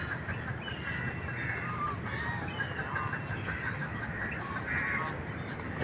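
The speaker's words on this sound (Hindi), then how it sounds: "परिंदे मुर्गियाँ, ये स्वान्स, ये देखो एक साथ घूमते हैं" Swans, geese and other water birds honk and call in a steady, overlapping chorus, heard at a modest distance and fairly faint.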